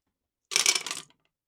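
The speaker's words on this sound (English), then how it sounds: "So we roll this time 6 dice" Six dice rolled for a solitaire tank wargame give one short, close rattling clatter of about half a second, then settle with a couple of faint final clicks.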